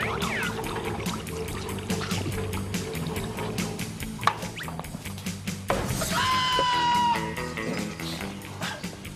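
Water is poured into a big metal barrel for a steam experiment, a splashing, trickling pour with hollow metallic knocks and ringing over a faint musical background.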